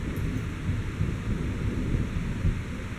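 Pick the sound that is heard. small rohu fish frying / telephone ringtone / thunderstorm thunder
thunderstorm thunder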